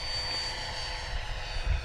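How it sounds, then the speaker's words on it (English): A Freewing F-18 90mm electric ducted-fan RC jet on a grass field gives a steady, loud turbine-like whine and rush that swells slightly near the end, with no talk. "Taking off. This is a great grass field jet."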